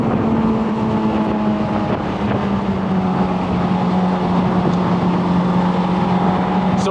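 Honda S2000 AP2 engine pulls hard up mountain hills, a loud continuous in-cabin drone with a steady tone slowly falling and shifting under load, no talk.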